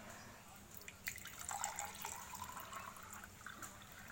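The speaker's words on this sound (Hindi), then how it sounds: "पानी भरो, पानी डाल।" Water is poured, making a soft irregular trickling and dripping for a few seconds over a low background hum.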